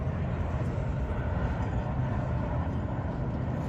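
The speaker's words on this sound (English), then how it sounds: "I'm trying to track this plane" A steady low roar from an airplane passing high above Toronto on a spring day, faint and distant, with no other sounds over the constant drone.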